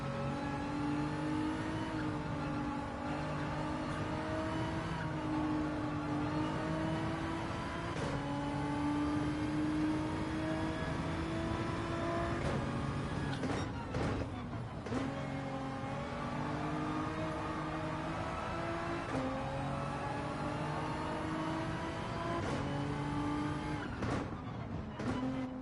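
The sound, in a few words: race cars driving laps in video game Gran Turismo 7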